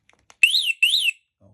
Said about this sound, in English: Now I'm just gonna take my key and take the alarm off.